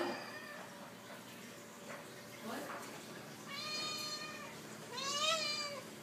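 A cat meows at a chicken, giving two drawn-out harmonic meows late on with softer calls earlier, all close by, while a person talks softly underneath.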